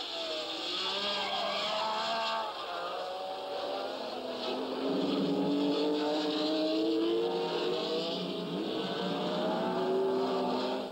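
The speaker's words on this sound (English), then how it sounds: "Benny is already gone, and Eamon closes the gap on Clark." 1967 Formula racing cars at full speed on a circuit, several high-revving engines sweeping past in steady overlapping whines with rising and falling pitch, loud and continuous throughout.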